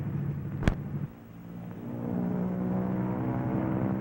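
A Lockheed P-38 Lightning takes off on a single engine, a steady propeller drone that drops briefly after a sharp click and then builds again, loud and continuous with no voices.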